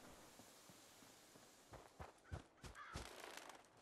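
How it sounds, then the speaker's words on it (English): Crows cawing in a post-apocalyptic wasteland in the game Fallout 4, several harsh calls bunched toward the end over a faint, steady ambient hiss, with a few soft footstep-like thuds. "Shut up, birds."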